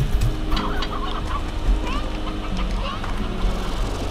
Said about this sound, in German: Ah, die Hühner. Schmeiß schnell noch in den Hühnerstall.